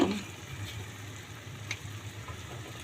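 Squid frying in a pan, giving off its black ink and releasing its own water as it cooks: a steady close sizzle with soft crackles throughout, no talking.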